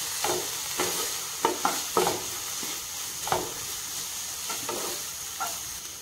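Masala for mushroom curry being stirred in a frying pan, with a steady sizzle underneath and a series of scraping, knocking strokes of the spoon against the pan, close and moderately loud, without talk.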